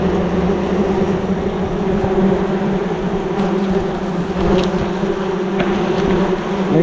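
Bees buzz thickly around a large wild hive made of many separate comb pieces. The dense droning hum is close and steady throughout, with occasional individual bees passing nearby.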